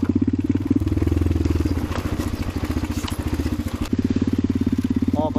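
A motorcycle engine stalling, idling roughly with a rapid sputtering pulse, faltering and dropping out before chugging again, close by.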